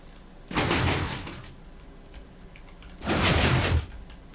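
A 5x5 cave door in a block-building video game opens and closes, two separate mechanical sliding, grinding bursts each lasting under a second, separated by a quiet pause.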